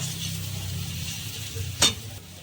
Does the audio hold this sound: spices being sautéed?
yes